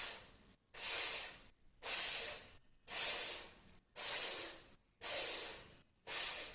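A person exhales with a sustained hissing S sound, seven evenly spaced breaths, each about half a second to a second long with short silent gaps between them, close and clear, during a meditation and singing breathing exercise.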